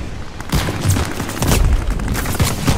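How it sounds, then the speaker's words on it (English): Gunfire in the shooter video game Vanguard, a dense stream of overlapping shots and booms that rattle on steadily and loudly across the whole stretch, with no talk over it. "See, man's just shooting."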